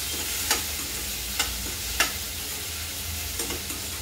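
Tomatoes sauté with softened onions in a pan, giving a steady, close sizzle. A ladle stirs and clinks against the rim of the pot a few times. No one speaks.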